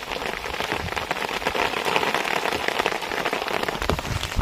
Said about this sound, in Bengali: আজ কিন্তু প্রচণ্ড বৃষ্টি থেকে হচ্ছে